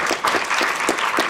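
An audience at a smart cities symposium and book launch claps steadily, a dense close wash of applause filling the whole short moment.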